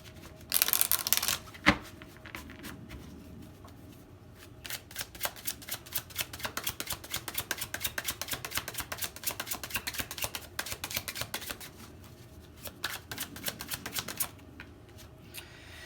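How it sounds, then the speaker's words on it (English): Tarot cards are shuffled in a long run of quick, dense riffling clicks, close and fairly soft, after a brief louder rustle at the start, with no talking. "Do one more shuffle."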